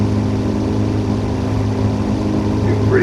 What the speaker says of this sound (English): you can hear just the sound of the engine, which is really nice for VFR flying